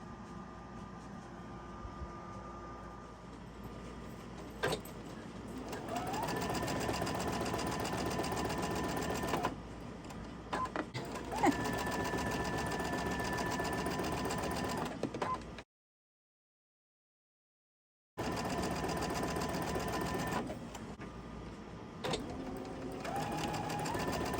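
A sewing machine stitches a fabric strip onto a summer table runner, a close, steady mechanical whirr running in several bursts with short stops and one longer silent gap.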